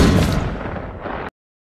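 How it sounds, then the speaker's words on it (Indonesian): A single loud gunshot blast rings out with a booming echo that trails off before cutting to silence. "tembakan Bill ini berhasil membunuh asisten Chombe"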